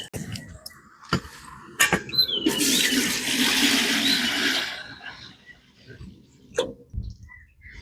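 Water pours into a cooking pot being set to heat for making wheat huggi for a festival meal, a steady broadband rush of a few seconds between brief clinks and knocks of handling.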